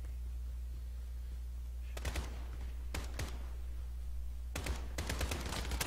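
Gunfire in the video game Call of Duty Warzone, a few short bursts of rapid shots at moderate distance, separated by quieter stretches over a steady low hum, with no voices.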